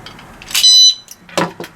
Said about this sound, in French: Pour l'activer en mode cadenas alarme